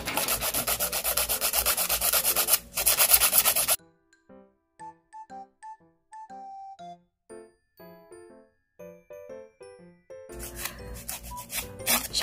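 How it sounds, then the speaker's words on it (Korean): A nail file rubs quickly back and forth across fingernails during a basic nail care session, giving loud, close rasping bursts at the start and end, with a melodic musical passage in between. "샵에서는 손톱 길이 조정을 시간을 줄이기 위해서 이게 좌우로 그냥 빨리 갈고 있지만"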